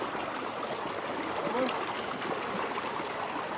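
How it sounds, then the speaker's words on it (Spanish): Water runs steadily through irrigation channels (acequias) in the highlands of Ichupampa, Caylloma, Arequipa, a continuous broadband rush and trickle holding at an even level throughout. "hoy corre el agua en estas acequias de este lado"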